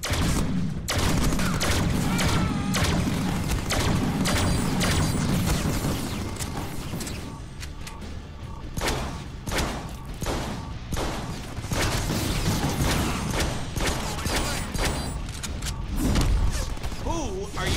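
Dense, sustained gunfire from the Deadpool video game, with rapid bursts and heavy thumps layered over loud action noise, continuing almost without pause and briefly easing midway before picking up again.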